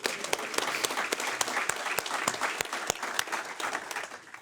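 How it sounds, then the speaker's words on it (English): Audience at a military change of command ceremony at Lajes Field in the Azores applauds an anniversary couple, a steady wash of clapping with distinct sharp claps standing out throughout. "If we can all just give them a round of applause."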